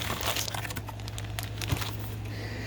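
A tightly taped shipping package being opened, with close, continuous crinkling and rustling of packaging over a low steady hum, fairly quiet.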